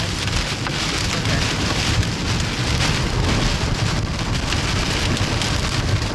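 Heavy rain pounds down during a tornado storm, a loud, unbroken roar of torrential downpour with wind, close and constant throughout, with no voices.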